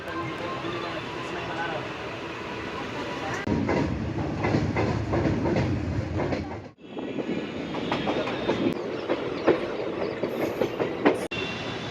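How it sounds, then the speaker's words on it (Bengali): A passenger train arriving at Varanasi Junction in India, with a steady rumble and clatter of the rolling carriages throughout, a sharp break midway, and voices talking over the noise. "ট্রেন একদম রাইট টাইমে পৌঁছে গেল বারাণসী জাংশন।"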